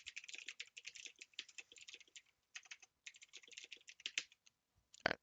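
Rapid bursts of typing on a computer keyboard, with quick clustered key clicks separated by short pauses and a sharper, louder keystroke near the end, close and clear with no talking.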